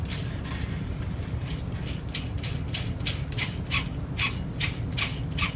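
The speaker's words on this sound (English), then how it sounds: "that noise is coming from the motor" A small motor in a vintage bump-and-go police car toy whirs with rapid, rhythmic gear clicking that grows louder and more regular, over a low steady hum.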